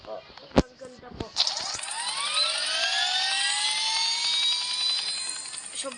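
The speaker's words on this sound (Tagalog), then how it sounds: "Sobrang bilis po ng helicopter." A video game helicopter spools up after a few sharp clicks and holds a loud, steady whirring rotor drone with rising engine tones. Speech is heard alongside it.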